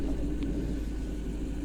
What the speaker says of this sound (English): obviously the engine's running as it has been all the way through